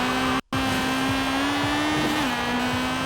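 A Honda Integra Type-R in Forza Horizon 4, drag-tuned with all-motor and turbo setups, launching off the line: a steady, loud engine drone holding pitch, briefly cut out near the start, then climbing slightly as it pulls away.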